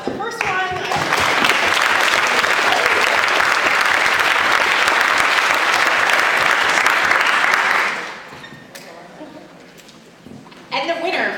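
Sustained audience applause at an intern awards ceremony, a dense steady clatter of many hands lasting about eight seconds before fading to quieter room noise, with a brief burst of sound at the end.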